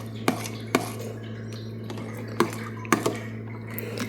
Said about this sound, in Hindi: पहले आधा डालेंगे, इसे मिक्स करेंगे, अच्छे से मिक्स करना है इसे।